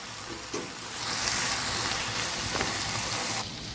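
Kabuli chickpeas in a pan hiss with a steady, loud sizzle as a hot tempering is poured in. A brief clatter comes first, then the frying noise holds evenly before cutting off near the end.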